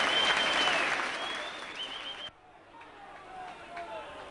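A football crowd at a Burnley match against Southend United roars after Andy Payton scores his first goal for the club, a loud, broad cheer that fades sharply partway through and leaves a quieter murmur underneath.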